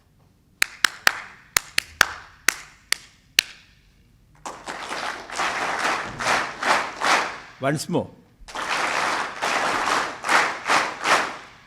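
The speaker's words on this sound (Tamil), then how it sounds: "நான் சொல்கிற மாதிரி கையை தட்டணும்" An audience at a talk claps hands in rhythm: first a series of sharp, separate claps, then louder rhythmic group clapping in pulsing waves, with a brief spoken call in between.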